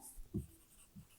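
Pen strokes on paper as a short heading is written by hand, a couple of soft, close scratches in near silence, with no talking over them.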